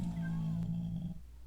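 Cat in a Minecraft mod pack, a single drawn-out meow with a rising then falling tone, fairly close, over a soft steady background hum.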